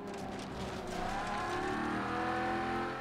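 A Regalia car's engine in the racing game Forza Horizon 3 holds a steady, full drone with a slowly rising tone throughout, heard close and alone with no talking.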